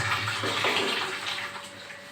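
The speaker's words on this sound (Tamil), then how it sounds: "ப்ளஷ்ஷாக விட்டதுக்கப்புறமும் தண்ணி ஊற்றுதான்னு பார்க்கணும்" Water flows steadily into the bowl of a newly installed western toilet after flushing, a continuous close rushing wash with no voices.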